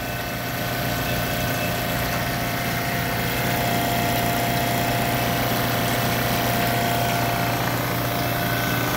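A Seawater Pro watermaker pump, 110/220 VAC and drawing about 12.8 amps, runs continuously with a smooth, even mechanical hum and faint ticking texture, steady and close throughout with no talking.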